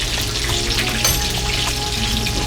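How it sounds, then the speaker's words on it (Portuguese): A tilapia fillet fries in a hot pan, giving a dense, continuous sizzle with crackling spatters, loud and close, with no talking. "o filé de tilápia tá fritando"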